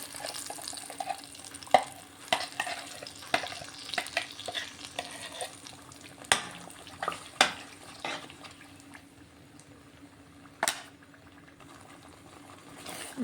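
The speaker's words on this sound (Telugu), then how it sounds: "ఇది కొంచెం సేపు ఈ ఆయిల్లో ఫ్రై అవ్వనిస్తాను" Ground masala paste fries in hot oil for a capsicum curry, making a faint, low sizzle broken by scattered sharp clicks and scrapes of stirring.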